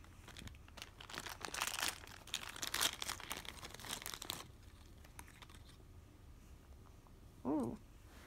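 Series 3 Roblox toy packaging being opened, with loud close crinkling and tearing of plastic in bursts for several seconds, then quieter rustling and a short squeaky sound near the end.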